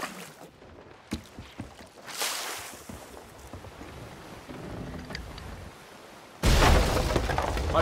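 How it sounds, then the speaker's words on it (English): A sailing ship in Sea of Thieves scrapes and crashes aground, with a grinding rush of water and wood, then a loud burst of splashing and impact near the end. "I've hit the ground again."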